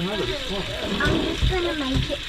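Tap water runs in a caravan with weak pressure, a steady close gush and splash under ongoing talk.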